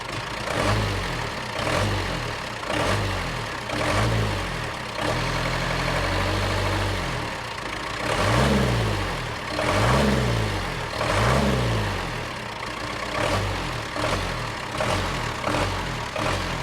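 Case 1840 skid steer with a rebuilt Cummins diesel engine revving up repeatedly, deep throaty acceleration bursts rising and falling in a steady rhythm, loud and close with no talk.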